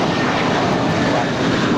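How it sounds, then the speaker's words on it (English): An 8-year-old American Airlines Airbus A321 departs LAX with a loud, dense, unbroken jet-engine roar that fills the short stretch at steady strength. "That was American 32 departing to New York. It's an 8-year-old Airbus A321."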